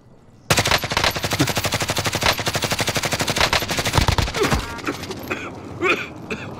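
Automatic gunfire in Call of Duty: Modern Warfare hammers in a loud, rapid, sustained burst that starts abruptly, then thins to scattered distant shots and game effects.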